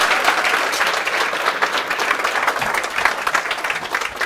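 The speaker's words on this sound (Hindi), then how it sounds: "जोरदार तालियां से स्वागत कीजिए" Audience applause welcoming a guest onto a talk-show stage: dense, steady clapping from a crowd that holds a fairly even loudness for the whole stretch without fading.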